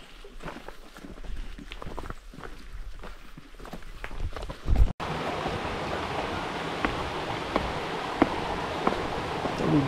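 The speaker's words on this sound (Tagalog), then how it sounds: "Tubig naman." Water flows along a mountain trail on a cross-country traverse in Kibungan, a steady rushing wash that turns louder and fuller halfway through, with footsteps and scattered small knocks over it.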